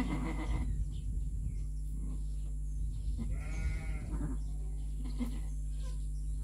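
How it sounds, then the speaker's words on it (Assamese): Tall Beetal breed goats at a sheep breeding farm, with one drawn-out, clear bleat in the middle over a steady low hum and faint farm background, with no talking. "এই ছাগলীবোৰ বিতাল প্ৰজাতিৰ হয়"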